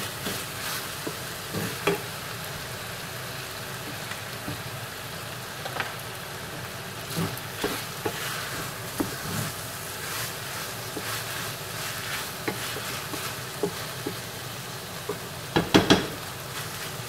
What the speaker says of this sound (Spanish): Todos mis ingredientes quiero que sofrían.